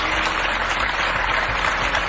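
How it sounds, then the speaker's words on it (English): An audience applauds continuously, a dense, steady wash of many hands clapping close and loud with no pauses. "did you hear all those people applauding?"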